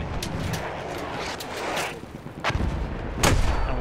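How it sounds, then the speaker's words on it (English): A tank fires artillery in Battlefield 1, with several sharp booming blasts and rumbling impacts spread across a few seconds amid game noise. "Let's get the artillery back out again."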